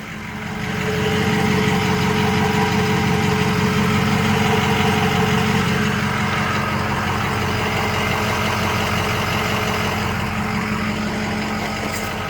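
A 2006 Ford F250 King Ranch with a Powerstroke diesel engine and stock exhaust idling, a steady, loud, close low rumble with an even diesel clatter that holds throughout, with no talking.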